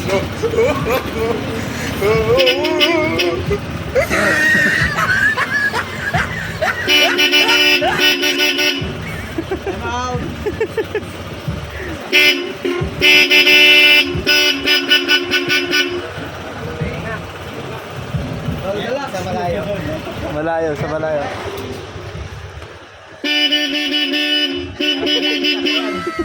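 A Bosch Europa aftermarket vehicle horn sounds in repeated loud blasts, some long and some short, separated by stretches of people talking nearby.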